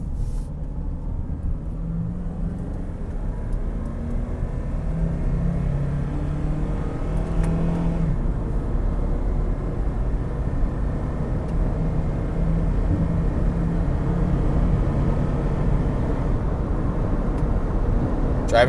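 A 2002 Honda CR-V with 229K miles, a misfire repair and a trailer hitch, driven on the road: a steady, continuous engine and road drone from inside the moving vehicle with faint rising whir, no talk.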